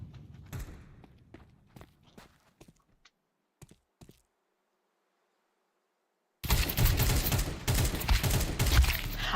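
Video game gunfire: scattered single shots and footsteps at first, then a gap, then a sudden loud sustained burst of rapid automatic fire and explosions.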